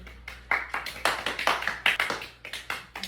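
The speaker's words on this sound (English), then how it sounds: "go ahead and clap." A small audience claps after a persuasive speech, with separate bursts of clapping in an uneven, loose rhythm, each sharp onset quickly dying away, close and moderately loud.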